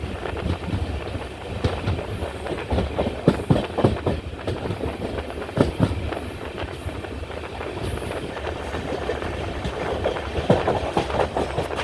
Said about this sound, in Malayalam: ശാസ്താംകോട്ട റെയിൽവേ സ്റ്റേഷനും അങ്ങനെ ട്രെയിൻ സ്കിപ്പ് ചെയ്യുകയാണ്